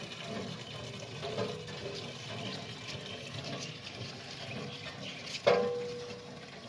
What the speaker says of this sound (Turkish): El pompası.